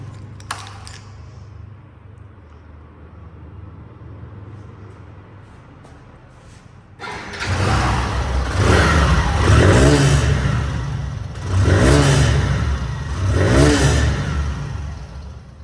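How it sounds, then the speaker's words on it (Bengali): A Hero Ignitor Xtec motorcycle engine starts up after a quiet stretch, then revs up and down in several surging bursts close by, with no talking. "বাইকটা এখন আপনাদেরকে স্টার্ট করে সাউন্ডটা শোনাবো"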